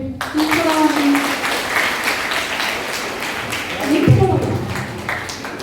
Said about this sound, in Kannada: ಆ ಹೆಣ್ಣು ಮಗಳಿಗೆ ಚಪ್ಪಾಳೆ ಹೊಡಿ.